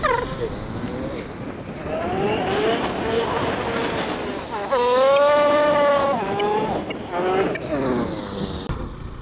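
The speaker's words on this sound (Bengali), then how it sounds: "এই চান্দের গাড়িগুলো খুব মানে হাই স্পিডের গাড়ি অর্থাৎ খুব শক্তিশালী গাড়ি" Chander Gari jeeps on a hilly road give off a steady engine drone and rumble that rises and falls with gear changes, heard up close and continuous, with some talking over it.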